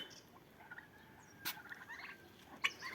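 Two Big-6 broad-breasted turkeys gobble in a few short, loud bursts, with sharp gobbles standing out over a quiet, steady background and no talking.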